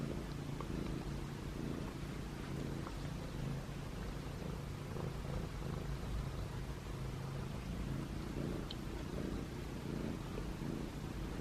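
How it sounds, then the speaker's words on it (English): A soft, steady low rumble of purring runs continuously at close range, with faint background hiss and no talking. "He's purring."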